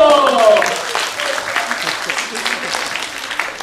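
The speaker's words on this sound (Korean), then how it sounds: "다시 한번 박수" A group claps during a dental clinic graduation presentation, brisk applause starting loud and tapering to a lighter patter, with a voice and a sung note briefly over the start.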